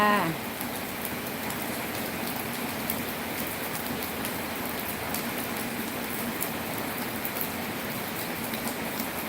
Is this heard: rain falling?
yes